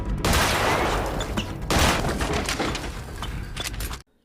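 Dense bursts of gunfire rattle through an action-film fight scene, loud and continuous for about four seconds with overlapping shots and crashes before cutting to silence.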